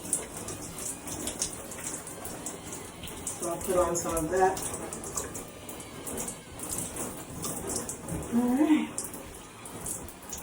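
Shower water runs steadily in a home bathroom during a loc-washing routine, a continuous hiss of spray close to the microphone that lasts throughout while someone talks over it.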